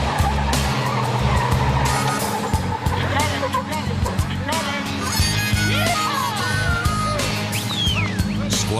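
A Jeep drives off-road in the desert with a loud engine rumble and spinning, skidding tires. Other vehicles can be heard, along with talk and faint excited voices.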